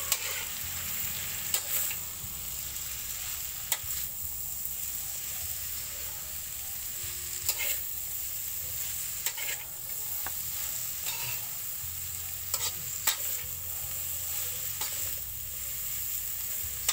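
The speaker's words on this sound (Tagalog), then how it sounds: "Haluin lang natin." Pancit guisado noodles frying and being stirred in a pan, a steady sizzle broken by scraping and clinking as a utensil tosses the noodles, close and continuous.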